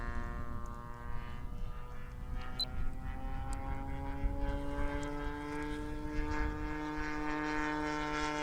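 Radio-controlled model airplane with a propeller, flying over an open field, heard as a droning, whining engine whose pitch slides steadily as it passes. It is moderately distant and continuous throughout.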